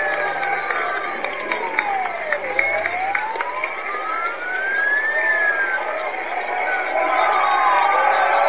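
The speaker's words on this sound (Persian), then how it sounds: "با دقت نگاه کنید به آمبولانس که وقتی رسیده به این جمعیت اینجا" An ambulance siren wails as it arrives at a crowd, its pitch sweeping up and down in long arcs over a steady roar of crowd noise and traffic.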